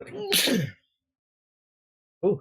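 A single sharp, close sneeze bursts out with a brief breathy lead-in, followed by a short silence and then a quick spoken word.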